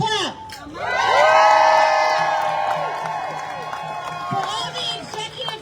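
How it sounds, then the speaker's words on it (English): A crowd of students, parents and supporters cheering and whooping at a Houston school district rally, a loud swell that fades beneath a voice speaking. "let's clap."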